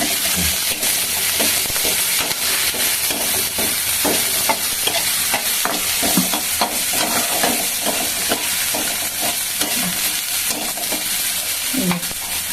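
Tomato and green chili frying in a pan for a Bengali chorchori, a loud steady sizzle and hiss with repeated scraping stirs of a spoon throughout, no talking.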